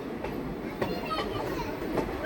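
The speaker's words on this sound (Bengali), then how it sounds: "Santragachi Digha first passenger train প্রবেশ করছে রূপনারায়ণ নদীর ওপর কোলাঘাট রেল ব্রিজে" A Santragachi–Digha passenger train crosses the Kolaghat rail bridge over the Rupnarayan river with a steady metallic rumble and rolling clatter, heard from nearby over faint background voices.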